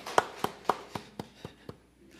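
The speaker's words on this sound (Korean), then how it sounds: "우리 다시 한번 우리의 모든 예배의 영광을 하나님 앞에 영광의 박수를 올려드립시다." A church congregation at a Sunday worship service gives a slow round of claps, about eight sharp, evenly spaced hand claps that fade toward the end, fairly quiet with no talking.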